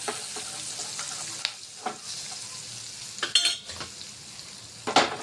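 A tempering of cut green chillies, curry leaves and asafoetida sizzles in hot oil. A soft frying hiss runs under irregular sharp crackles and a few louder spitting bursts, heard up close without speech.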